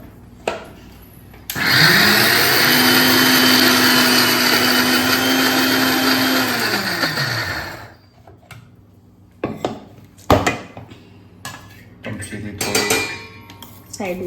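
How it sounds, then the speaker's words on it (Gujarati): An electric mixer grinder grinds soaked split dal into khaman batter, a loud steady whine lasting about six seconds before winding down. Clinks and container handling follow. "હવે આપણે પીસી લઈશું."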